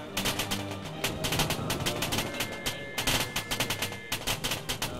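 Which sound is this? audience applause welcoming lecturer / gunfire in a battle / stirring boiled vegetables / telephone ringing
gunfire in a battle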